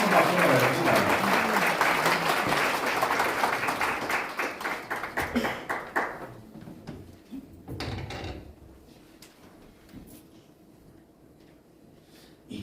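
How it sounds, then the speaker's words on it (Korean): Audience applause welcoming a Methodist pastor at a Korea–Israel network summit forum, loud and dense at first, thinning out after about six seconds into scattered claps and a faint sparse room tail. "큰 박수 받아주시기"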